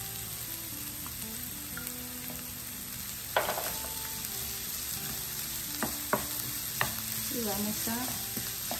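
Half an onion, sliced julienne, sizzles steadily in a hot pan, with occasional utensil scrapes and taps as it is stirred. A voice speaks briefly over the frying.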